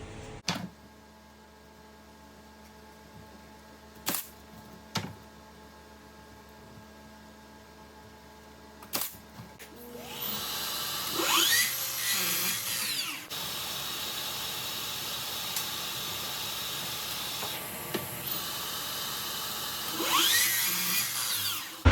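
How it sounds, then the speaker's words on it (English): Wooden trellis supports for a lattice planter box are nailed and cut down to length. A few sharp knocks sound first over a quiet background, followed by a long, loud stretch of sawing and cutting noise. "So I'm gonna go ahead and nail these up and cut them down to 4 feet."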